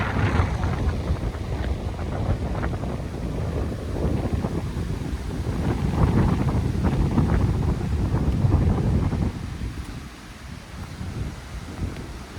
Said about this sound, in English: the wind's blowing hard